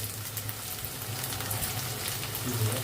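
Tomatoes hit hot oil in a pan for a spicy prawn masala, setting off a constant crackling sizzle with fine spattering pops, close and steady throughout.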